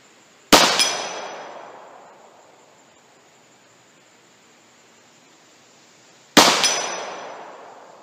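Two loud, sharp gunshots from a MAC Bullseye 1911 Longslide pistol chambered in .45 Super, about six seconds apart, each cracking close outdoors and fading out in a long echoing tail, with no voices.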